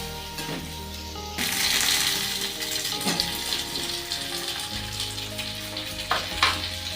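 Chopped tomato drops into a pan of chicken curry masala, and a loud steady sizzle of frying swells at once, with stirring clatters and scrapes through it.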